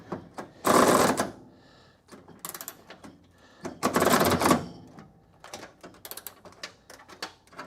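A ratchet turns a bolt whose threads are caked in undercoating on a Dodge Coronet crew cab fender, giving two loud, grinding, clicking bursts between softer, scattered clicks, close up and without talk.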